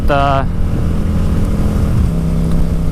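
A motorcycle engine revs hard in a first-gear pull as part of a performance air filter test. A brief, rising whine opens the clip, then a steady, loud low engine drone runs throughout.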